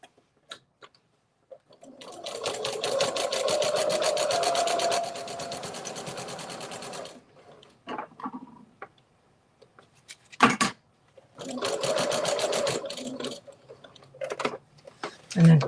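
A sewing machine stitches quilt pieces in two bursts of rapid, close mechanical whirring, separated by quiet handling noises and small clicks, with a few light taps at the end.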